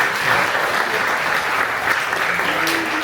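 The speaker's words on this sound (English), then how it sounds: "One more round of applause for Russell." Audience applause at a keynote address during a West Virginia self-advocacy conference, a dense, sustained round of clapping from a crowd filling the room at full strength throughout.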